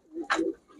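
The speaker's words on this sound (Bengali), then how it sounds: "বড় বড় সাইজের কবুতর" Large pigeons in a shop selling Kaldum, Budapest and Pakistani breeds give a single short, throaty coo, close and fairly soft, with no talking.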